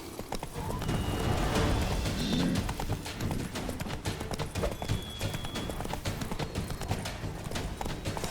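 Hoofbeats of a galloping horse in The Witcher 3 drum rapidly and continuously up close, with a neigh early on and game ambience behind them.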